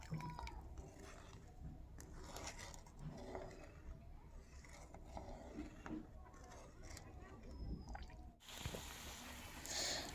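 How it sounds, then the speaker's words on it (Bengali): Sugar and water heating in a kadai for syrup, giving soft bubbling, dripping and liquid squish sounds at close range, with a sharp hiss near the end and a voice talking over parts of it. "শিরাটা ফুটছে"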